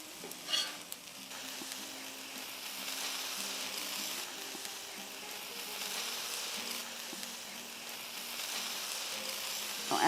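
Poblano peppers fry in a hot pan with a continuous, even sizzle and crackle, occasional stirring bumps, close and moderately loud, no talking.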